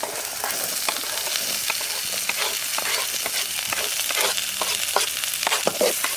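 Garlic and onion sautéing in ghee with finely chopped vegetable pieces for moringa leaf soup, a continuous close sizzle broken by frequent quick scrapes and taps of a stirring spoon, with no voices.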